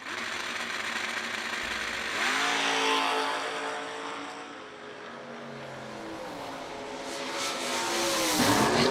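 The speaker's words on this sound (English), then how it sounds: "The Houdini Camaro of Tracy's Sons in the right" Drag racing cars, one a Camaro, launch at a winter event: loud engines roar and rev with rising and falling pitch sweeps, sustained close through the whole stretch and climbing again at the end.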